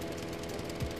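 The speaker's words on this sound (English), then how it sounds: "Look at how effective this lawnmower is." A lawn mower engine in the Xbox indie game Mower drones briefly and steadily, with a buzzing, slightly knocking tone and a small low thump near the end.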